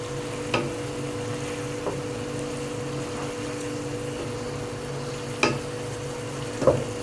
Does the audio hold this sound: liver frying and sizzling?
yes